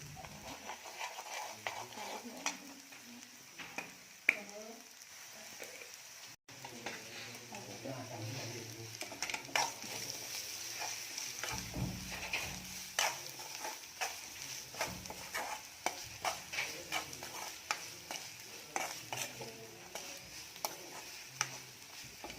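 Onions with turmeric, chilli powder and pepper powder frying in a pan, a soft steady sizzle with scraping stirs and clinks, a voice talking over it at times.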